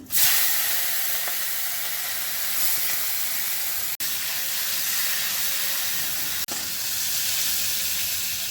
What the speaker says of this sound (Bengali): আর সর্ষের তেলে প্রথমে চিংড়ি মাছটা ভেজে নিচ্ছি